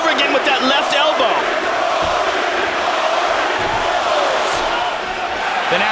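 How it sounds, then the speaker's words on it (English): Arena crowd at a UFC fight between Carlos Condit and Rory MacDonald erupting into a loud, sustained roar of cheering and yelling that stays at full intensity. "The crowd goes bananas."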